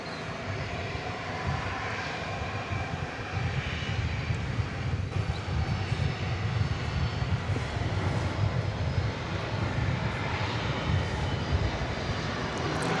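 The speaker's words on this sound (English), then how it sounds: "We have some more wide-body action about to blast off over here." American Airlines wide-body airliner taking off at DFW Airport at night, a steady heavy engine roar with a deep rumble, continuous and fairly loud from some distance, without voices.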